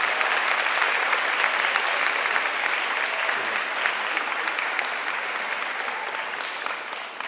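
Sustained applause from a crowd of students and families at a high school senior awards ceremony, dense and steady from start to finish with no voices rising above it.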